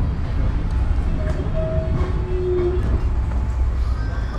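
A KRL commuter train riding between stations in Indonesia, a loud, steady rumble of wheels and carriage noise with faint tonal whines, heard from inside the car.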